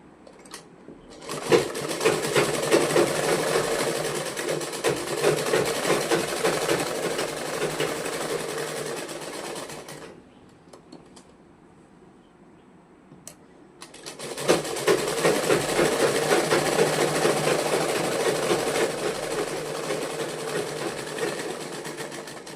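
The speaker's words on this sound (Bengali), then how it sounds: "চাপ সেলাইটা আমরা দেবো এবার এখানে" A sewing machine runs steady topstitching along the front of a blouse, two long continuous bursts of fast, even stitching separated by a few seconds of quiet, close and clear with no talk.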